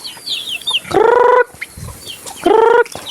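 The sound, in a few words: chickens clucking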